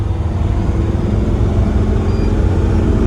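A camper van's loud, steady engine drones close by with a rough, uneven rumble from a fuel mix fault, running continuously without any voices.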